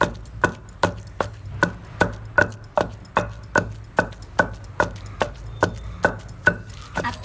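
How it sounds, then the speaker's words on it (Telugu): Garlic and coriander are pounded into a masala for chicken fry, with steady rhythmic thuds of about two per second, each a sharp close knock, running evenly with no talking. "కొంచెం కొత్తిమీర వేసుకుంటున్నానండి. అది కూడా కలిపి దంచుకుందాం."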